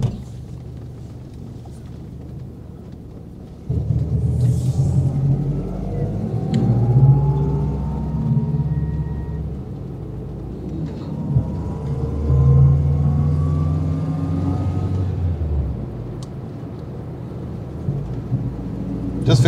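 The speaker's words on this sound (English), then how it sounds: "there's a little wind noise because we've got the window open on the passenger side" Wind noise rushing through an open passenger window of a moving Saab 96 V4, a steady low roar mixed with engine drone that rises and falls with speed over the drive.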